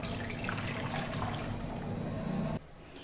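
Sweet potato pudding is poured into a square glass pan, making a steady, close, splashy liquid rush that continues evenly and then cuts off abruptly near the end, leaving a quieter background.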